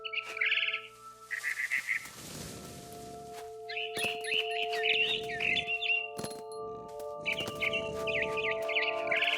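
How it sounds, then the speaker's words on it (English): A barn swallow in the video game What Remains of Edith Finch chirps in quick bright twittering bursts that repeat several times, close and clear over a soft sustained musical tone. "Then I heard chirping outside my window. It was a barn swallow going back to her nest."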